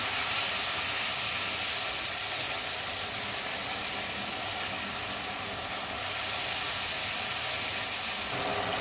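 Spice paste fries in hot oil in a pan, making a loud, dense, continuous hiss and sizzle that barely changes from start to finish.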